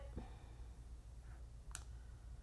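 A couple of faint, sharp computer mouse clicks over quiet background hiss.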